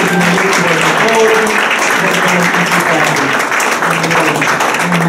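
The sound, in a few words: congregation applauding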